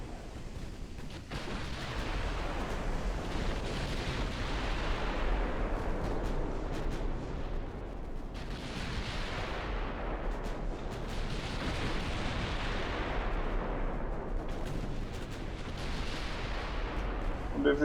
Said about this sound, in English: We're shooting the light cruiser now